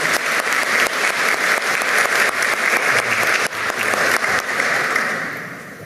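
An audience at a ceremony honoring defenders of democracy claps for a retired police officer receiving a decoration, with steady, dense applause throughout before it tapers slightly at the very end.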